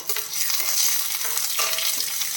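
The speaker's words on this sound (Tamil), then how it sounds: "கொஞ்சம் கருவேப்பிலை இதை சேர்த்து நல்லா வதக்கிடலாம் வெங்காயம் வந்து நல்லா வதங்கணும்" Onions and curry leaves sauté in a pan for a Kerala-style fish curry, giving a steady, close sizzle with the scrape of stirring throughout.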